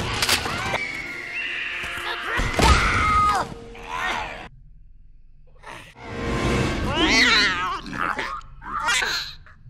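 High, wavering mewing cries from a lion cub, repeated several times with short pauses, close and fairly loud, over a faint rustle.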